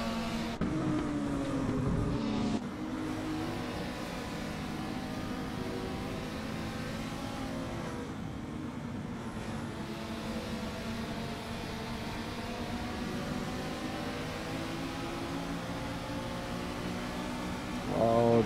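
A Mazda race car driving fast around Watkins Glen during an IMSA shakedown session, heard from inside as a sustained loud engine roar with shifting harmonics, brief gear-change dips near the start and mid-lap, and a surge near the end.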